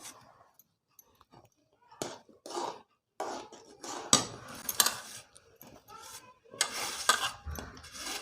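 Semolina and jaggery mixture being stirred in a pan, with a series of scraping and clinking strokes of a utensil against the metal, close and moderately loud, irregular bursts with pauses between them and no talking.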